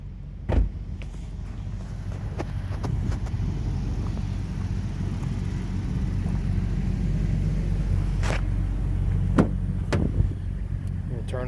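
A car engine idles at the end of a cold start, warming up with a steady low rumble on an even loop. A few sharp clunks and clicks cut in over it, and a person speaks at times.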